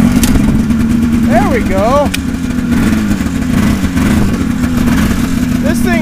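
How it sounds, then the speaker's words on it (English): Snowmobile engine on choke, just fired up, settling into a loud steady idle with a throbbing low hum right beside the listener, as someone speaks briefly over it. "fire up my snowmobile"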